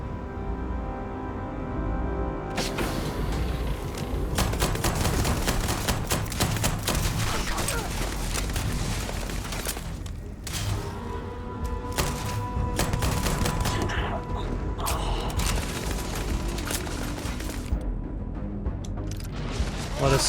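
Rapid bursts of gunfire and heavy impacts in the video game Starfield, dense and loud for long stretches with brief pauses, under a busy mix of other game sounds.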